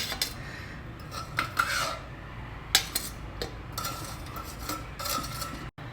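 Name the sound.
Vella seedai being taken out of an air fryer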